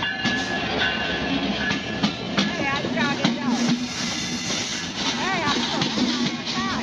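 A passenger train pulling into a Bangladeshi station at Ishwardi, its wheels clattering and squealing in rising whines over a loud rumble, with people talking nearby under the rail noise.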